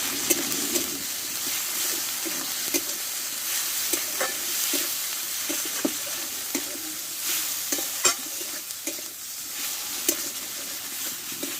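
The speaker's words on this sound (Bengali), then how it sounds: "আর দেবো হলুদ গুঁড়ো স্বাদ মতো লবণ দিয়ে মশলাটা ভালো করে কষে নেবো আমরা" Spice paste with turmeric powder, salt and tomato sautéed in a pan for a rohu fish curry with ridge gourd, a steady sizzle broken by repeated scraping stirs of a spatula, close and moderate, with no talking.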